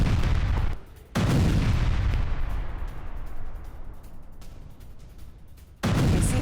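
Russian grenade launcher attack in war footage, with heavy booming blasts at the start and end and a long rumbling decay between them, loud and close with no talking.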